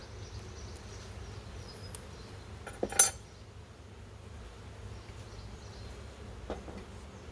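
Honeybees hum in a steady low drone through a July hive inspection, close and continuous, with a couple of brief clinks of equipment partway through.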